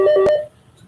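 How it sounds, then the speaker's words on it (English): A short electronic phone tone chirps once up close, a brief two-pitch beep that stops abruptly, in the room during a virtual elementary school town hall meeting. "My phone ringing."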